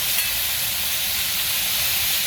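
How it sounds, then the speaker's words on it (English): Hibachi-style stir fry sizzling on a hot Blackstone griddle with sauces, a steady, even hiss that is fairly loud and close, with no talking. "That was a very underwhelming sizzle."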